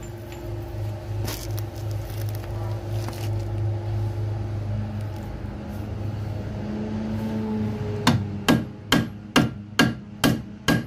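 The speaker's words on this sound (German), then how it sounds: "Hammer!" Hammering while repairing the chassis of a classic car in a workshop: about eight sharp, evenly spaced metallic blows ring out near and loud toward the end, after a stretch of low engine-like hum and scattered clatter.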